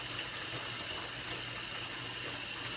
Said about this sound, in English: I'm going to pour some water in there.